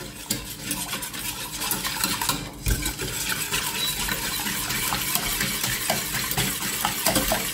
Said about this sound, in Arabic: je mélange le sucre avec la farine